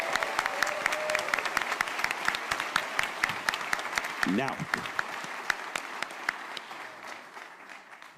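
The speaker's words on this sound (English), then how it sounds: "So let's hear a round of applause for the volunteers too." A convention crowd at New York Comic Con 2017 applauds the volunteers at a Marvel Avengers panel, a loud sustained patter of many hands that thins toward the end as a voice briefly cuts in.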